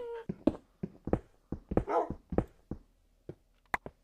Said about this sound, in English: Dang it, dogs.